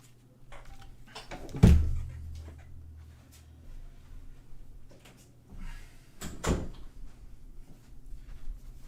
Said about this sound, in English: I need to close my door real quickly.